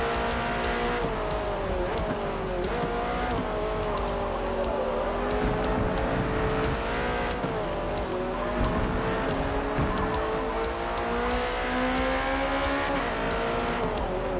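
A Ford race car engine in the Forza Motorsport racing game roars continuously, pitch rising and falling through gear changes and corners, with occasional tire squeal, loud and steady throughout.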